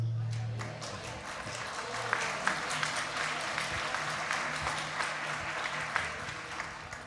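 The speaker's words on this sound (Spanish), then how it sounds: "los aplausos para el Señor" Steady audience applause fills a church sanctuary, many hands clapping at once with scattered louder claps, sustained throughout.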